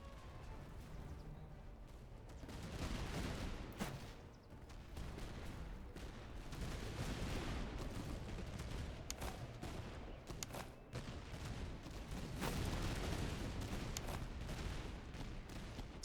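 Musket volleys and scattered gunfire from soldiers shooting at grenadiers in Master of Command, a steady, dense crackle of many shots with sharper reports, heard at a distance beneath a constant battlefield rumble.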